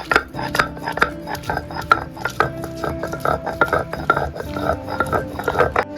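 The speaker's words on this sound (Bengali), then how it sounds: "সমস্ত মশলা বাটছি" Spices, garlic and onion being ground into a fine paste, heard as repeated rhythmic scraping and knocking strokes at close range, steady throughout with no talk.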